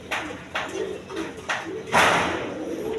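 Satin pigeon fluttering and flapping in handling, a few short bursts of wing flaps close by, with a louder scuffle near the end.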